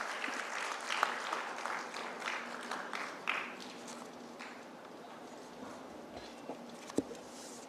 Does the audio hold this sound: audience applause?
yes